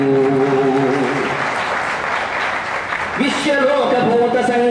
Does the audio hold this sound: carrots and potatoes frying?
no